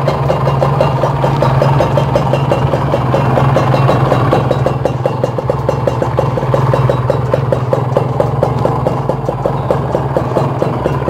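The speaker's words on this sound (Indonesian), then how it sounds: "Kalau dicuk nih meskipun gasnya nggak dimainin, dia tetap aja stabil bre, dia tetap aja sudah nyala toh" A two-stroke Kawasaki Ninja R motorcycle engine idles with the choke on, holding a steady, close, even putter with a fast regular beat and no revving, heard alone.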